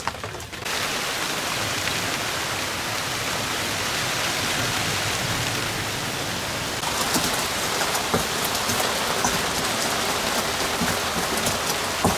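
Steady rain falls on an open rice field, a dense, even hiss that holds throughout and grows slightly louder and patterier in the second half, with no one speaking.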